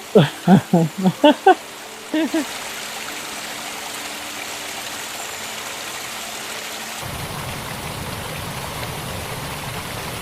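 Steady rushing water of a waterfall, Paradise Falls in Australia, roars continuously, after a few brief bursts of voices at the start.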